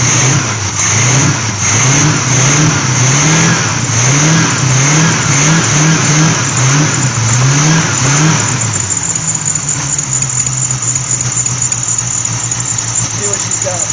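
A Quadrajet-carbureted V8 engine running a little rich with a fuel pressure problem, revving in repeated rhythmic pulses for about nine seconds, then settling to a steady loud idle, with voices talking over it.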